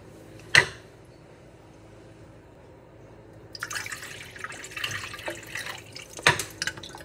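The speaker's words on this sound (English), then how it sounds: "Bucket flushing." A bucket of water dumped into a mini toilet to flush it gives one sharp splash near the start, then after a quiet gap a stretch of gurgling, rushing water that swells again toward the end.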